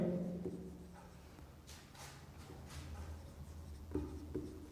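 Marker or chalk writing on a board in a biology classroom: soft scratchy strokes in short bursts, fairly faint, with a low hum underneath and brief vocal sounds at the start and end.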